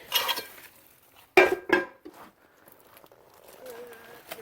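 Pressure cookers and stainless steel pots clank and scrape as they are handled, in a few sharp metallic knocks with quieter rattles between them.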